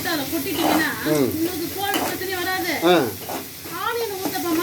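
Onions sauté in a pan for onion uttapam, a constant soft sizzle and stirring beneath a person talking throughout.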